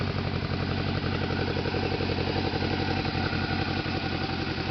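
A 1977 Honda CB750A Hondamatic motorcycle engine idles close by, already warm, a loud, even, rapid burbling pulse that holds steady throughout with no voices.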